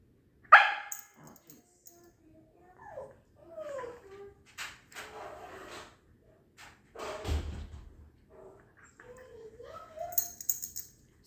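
A pet dog in an indoor training session gives a sharp bark, then whimpers and whines through several short, rising cries with a brief thump between them, fairly faint and close, under occasional quiet talk.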